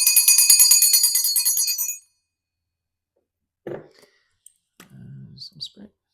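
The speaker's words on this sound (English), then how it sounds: "I use my mom's bell." A bright hand bell rings rapidly for about two seconds and fades, followed by silence and then a few soft voices and small noises.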